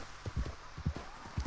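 Horse hooves in a PS4 video game clop in a quick, uneven rhythm, faint and soft, alone with no talk.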